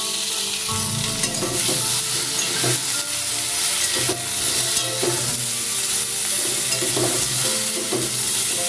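Pointed gourd fries in oil with salt and turmeric, giving a steady close sizzle while a spatula scrapes and stirs the pan in repeated strokes, with no talking.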